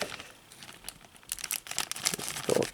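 A small plastic bag holding a dinosaur figure is crinkled and torn open, producing close, bursty crackles and rustles that grow louder toward the end.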